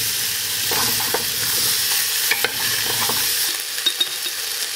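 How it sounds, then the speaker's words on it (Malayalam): Chopped green chillies stir and sizzle in a hot pan with steady frying hiss and occasional soft utensil scrapes and clicks, close and continuous for the whole stretch. "ഇതോടൊപ്പം തന്നെ നമ്മൾ രണ്ട് അല്ലെങ്കിൽ മൂന്ന് പച്ചമുളകും കൂടി ചെറുതായിട്ടൊന്ന് കട്ട് ചെയ്തിട്ട് അതിലേക്ക് ഇട്ട് കൊടുക്കാം. ഒന്ന് ജസ്റ്റ് ഒന്ന് ഇളക്കി കൊടുക്കാം."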